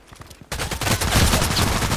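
Gunfire in the online shooter Contract Wars, a loud burst of rapid shots starting abruptly after a brief quiet stretch, continuing as dense overlapping automatic fire with no talk.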